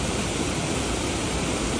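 Delaware Falls at Ricketts Glen State Park rushes in a close, loud, unbroken roar of cascading water, a steady broadband wash with no voices over it.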